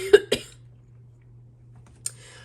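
Two sharp, close coughs in quick succession open the clip, then near silence over a steady low hum before one more short cough-like burst near the end.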